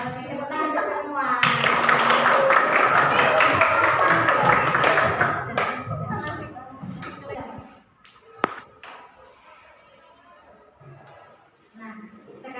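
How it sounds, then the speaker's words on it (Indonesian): A classroom group claps hands together for everyone, a loud burst of dense clapping that swells then fades, with voices talking under and after it. "tepuk tangan untuk semua"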